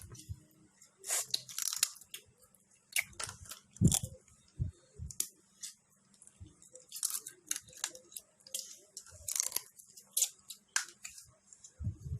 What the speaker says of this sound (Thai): เสียงกัด